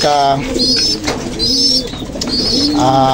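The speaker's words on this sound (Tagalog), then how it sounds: "nagpapakain po tayo ng kalapati" Pigeons coo repeatedly in a steady rhythm, several racing pigeons close by being fed, with a few higher chirps mixed in and no talking.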